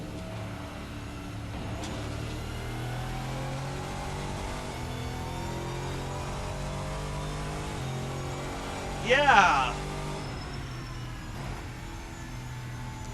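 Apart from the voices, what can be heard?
V8 race car engine revving in video game Assetto Corsa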